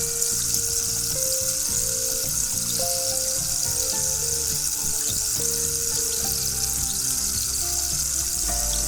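Prawns sizzle steadily in a hot pan with turmeric while being stirred for a prawn pickle, a continuous bright frying hiss with light scraping under a faint steady tonal hum.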